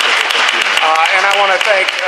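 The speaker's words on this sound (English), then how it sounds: "Can you give them another round of applause?" Audience applause for panelists at a public ministry panel event, a dense continuous wash of clapping across the clip, with voices speaking over it.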